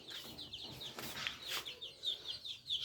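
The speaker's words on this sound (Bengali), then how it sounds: "শখের খামার, শখের মুরগি।" Pet chickens kept on a rooftop farm cluck and chirp in short repeated calls, moderately near, with no talking over them.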